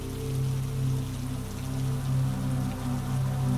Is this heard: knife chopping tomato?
no